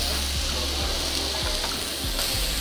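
Meat sizzles steadily on a Japanese yakiniku tabletop grill with garlic, a dense continuous frying crackle with small pops, close and alone.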